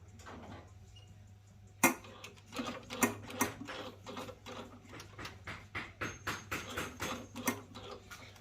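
A sewing machine stitching a sneaker upper starts after a brief quiet moment, then runs in a rapid, evenly pulsing mechanical clatter of needle strokes, close and moderately loud, with no talking.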